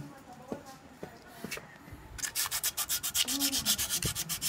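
Rhythmic back-and-forth scraping of sandpaper on a Honda Click 125 scooter that won't start, fast and steady in the second half, following a few soft knocks and a brief voice.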